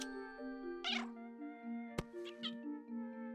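A cat meows a few times in the puzzle video game A Little to the Left, short distinct game-sound meows over a soft sustained musical tone, clear and fairly close, with no talking.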